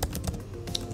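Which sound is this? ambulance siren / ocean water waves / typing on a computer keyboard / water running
typing on a computer keyboard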